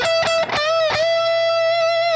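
Electric guitar playing a solo section: a few sharp muted-string hits, then a sustained, bent high note that rings out with distorted harmonics, played alone at close range.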